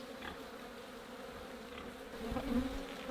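Honey bees buzzing on a hive frame, a continuous moderate drone that swells slightly louder toward the end as bees pass nearer.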